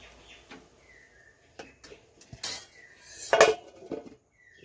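Metal cookware clatters as a pot of sugar syrup is covered and set down: a few sharp clinks and a louder clang of the lid, with quiet gaps between and faint birdsong in the background.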